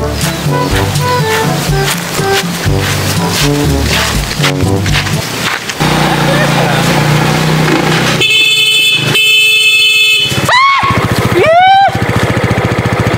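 A motorcycle horn honks in short repeated toots over loud engine and street noise, with music and voices earlier on.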